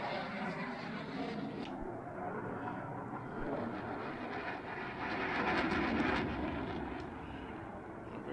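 An F-16 jet engine in the X-Plane flight simulator runs as a steady, muffled roar that swells for a few seconds as the throttle opens, then eases back.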